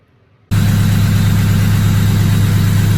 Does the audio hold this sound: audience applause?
no